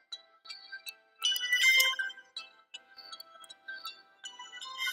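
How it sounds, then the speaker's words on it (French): A phone ringtone plays a bright, tinkling melodic pattern in repeated short phrases, fairly quiet and alone in a quiet room. "je réponds au téléphone"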